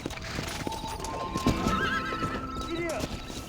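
Horse hooves clip-clop steadily while a horse whinnies in Red Dead Redemption, set against a dense western game soundscape with voices talking over the riding.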